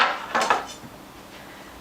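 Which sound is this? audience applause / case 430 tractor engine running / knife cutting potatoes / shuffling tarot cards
knife cutting potatoes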